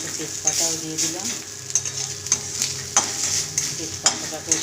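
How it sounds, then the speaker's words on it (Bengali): A bay leaf frying with spices in a pan, with loud steady sizzling broken by sharp scrapes and clinks of a utensil stirring, close up. "তেজপাতাটাকে এর সঙ্গে দিয়ে মশলার সঙ্গে ভেজে নেব।"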